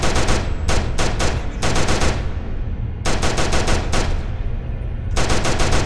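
A weapon in the Skibidi Toilet horror game fires rapid, loud automatic bursts, close and dominant, with short gaps between volleys and no talking over them.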